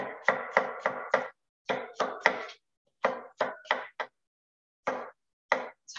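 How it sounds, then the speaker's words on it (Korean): A knife slicing cucumber on a cutting board: crisp, close chopping strokes in quick clusters of three to five, separated by short pauses, with no talking. "오이 이렇게 썰어주세요"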